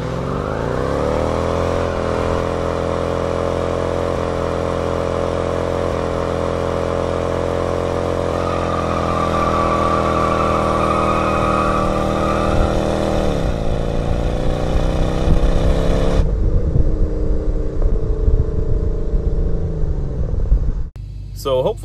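A Dodge Dakota R/T pickup with a 12-valve engine drives on the road in winter, heard from inside the cab. Its steady engine drone rises slightly as it accelerates, then the tone shifts and a voice talks briefly near the end.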